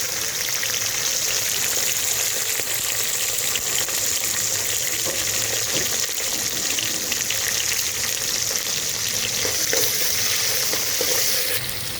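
Onion and ginger garlic paste frying in a pan, giving a steady, dense sizzle that holds at an even level from start to finish, close to the listener and with no talk over it.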